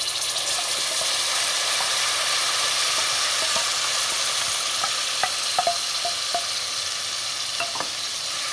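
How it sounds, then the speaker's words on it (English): Tomato puree hits hot oil in a pan for an Amritsari chole masala, giving a steady, close, continuous sizzle with scattered small pops and scraping as it is stirred. "Now I'll be adding in the tomato puree."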